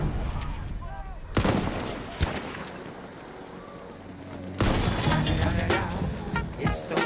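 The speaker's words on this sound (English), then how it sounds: "Enemy machine gun!" Enemy machine gun fire in Battlefield 1 gameplay: loud bursts of automatic firing with sharp cracks, heaviest at the start and again near the end, amid battlefield noise and a voice talking over it.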